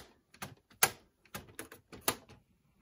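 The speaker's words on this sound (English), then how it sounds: "These doors are very clacky." Plastic doors on a Barbie Sweet Orchard Barn farm playset clack open and shut in a quick irregular series of about six sharp, close knocks, with no talking.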